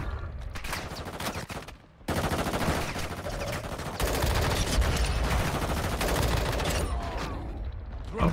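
Automatic gunfire in Call of Duty: Warzone Mobile, dense continuous rattling bursts of rapid shots with overlapping game effects, loud and steady throughout with a brief dip partway.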